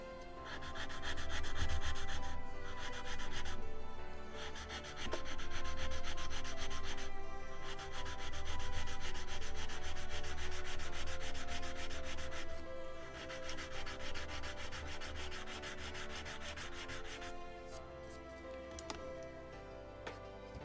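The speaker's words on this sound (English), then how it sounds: "So then I will sand everything." Wooden mast-ring parts for a model of the 1776 gunboat Philadelphia are sanded by hand in close, quiet back-and-forth rubbing strokes that continue in steady bursts with short pauses, with no talking.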